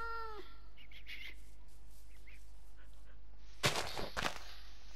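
A single short kitten meow from the Minecraft video game at the start, followed by quiet game ambience and a few brief sharp clicks or bursts near the end.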